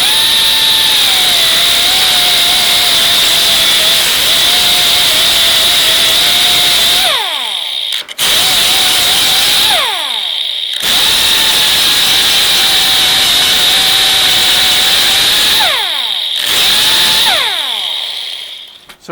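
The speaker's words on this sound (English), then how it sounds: "I'm using what I call a ziz wheel, or it'll be a cutoff wheel. And I'm just going to grind the top of that weld off." An angle grinder fitted with a thin cutoff wheel grinds down a weld on a 1968 Mustang during drip rail repair. It gives a loud, sustained high-pitched whine that briefly drops and spins back up several times.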